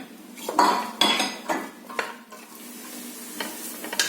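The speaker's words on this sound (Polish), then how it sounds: "Gdy to wszystko nam się smaży" Utensils clink and scrape against a pan while onion and carrot sizzle softly underneath for vegetable lecho, with a few sharper knocks scattered throughout; no talking.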